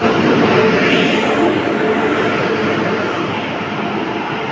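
A loud, steady rumble of a train rolling in, broadband rail noise filling the clip from start to finish with no voices.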